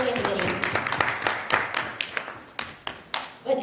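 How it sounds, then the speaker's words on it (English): A conference audience gives a round of applause for participants, with scattered, uneven hand claps rising and thinning over a few seconds while a voice speaks over them. "Let's have a big round of applause for all participants in all categories."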